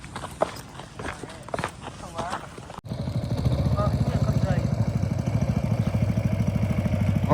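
Motorcycles arriving from a tribal village beside the Narmada: footsteps and voices first, then a close, loud engine drone with a fast, even pulse sets in and continues to the end.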